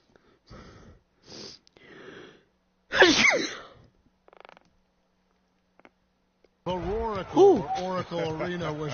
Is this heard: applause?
no